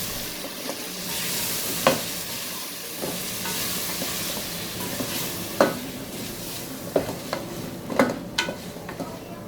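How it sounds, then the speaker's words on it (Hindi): Tomato, yogurt and red chilli masala frying in hot oil, a steady sizzle broken by sharp spoon scrapes and clinks against the pan at uneven intervals, close by with no talk. "अब इसको आपने बहुत अच्छी तरह से भूनना है कि ऑयल ऊपर आ जाए"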